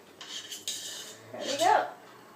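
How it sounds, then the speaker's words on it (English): A small spoon scoops warm honey from a container, making a few soft clinks and scrapes of metal with a brief louder scrape near the end, quiet in a still kitchen. "scoop it out with my little handy spoon"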